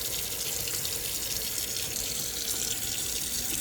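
Water from a tap pours over pickled cabbage leaves in a sink, a loud, continuous close splashing hiss with no voices.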